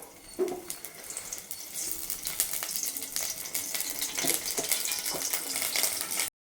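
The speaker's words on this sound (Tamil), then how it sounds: "இப்போ நம்ம எண்ணெய் ஊற்றுறோம் தாளிக்கிறோம்" Steady crackling sizzle of spices tempering in hot oil, with sharp pops and small clinks scattered throughout, close and fairly loud.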